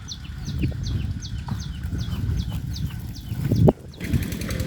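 Cicadas chirp outdoors in a steady series of short, high, repeated calls near a water-well drilling site, over a low rumbling background that swells into a louder thump near the end.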